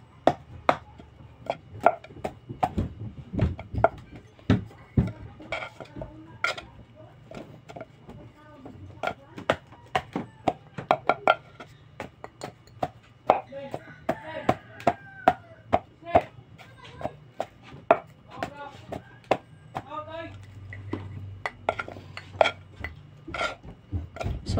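Boiled banana being pounded for nilupak, brown sugar added partway, a steady run of sharp thuds and knocks close by with clinks of utensils, under intermittent talking.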